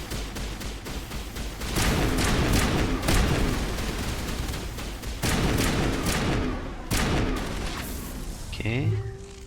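Sustained gunfire and booming blasts from a sci-fi firefight in the video game Mass Effect, with loud bursts hitting in waves and a brief electronic tone near the end, while a voice talks over the action.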